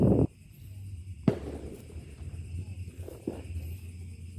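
Roman candle fireworks, a five-shot type, fire during a Ramadan celebration, with a loud burst at the start and sharp cracks spaced about a second apart over a low background rumble.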